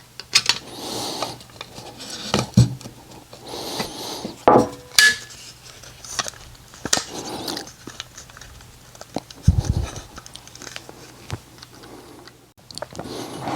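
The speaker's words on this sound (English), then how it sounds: "I'm gonna grab my screwdriver and pry this back in." A screwdriver pries an AR-15 handguard back into place, giving scattered metallic clicks, scrapes and knocks at irregular intervals, close and fairly quiet, with no talk.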